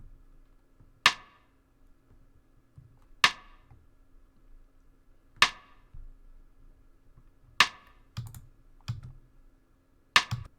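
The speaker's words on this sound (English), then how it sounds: "The first part is this rim that plays this pattern." A rim-shot drum pattern in a hip-hop beat, crisp isolated clicks spaced about two seconds apart with a brief cluster of softer hits near the end, dry and alone.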